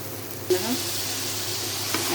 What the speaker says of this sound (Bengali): এখন বেগুনটা ঢেলে দিচ্ছি, এখন এটা নাড়া দিয়ে কষানোর জন্য ঢেকে রেখে দিব।